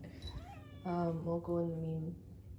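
A pet cat meows twice in a drawn-out, plaintive cry after a brief breathy hiss, close to the microphone during grooming.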